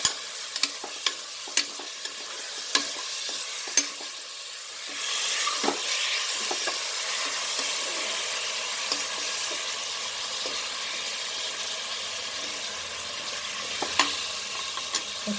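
Kidney and liver biryani masala frying in a pan, first tapped and scraped with a spoon in a quick series of clicks, then settling into a steady close sizzle with occasional stirring knocks.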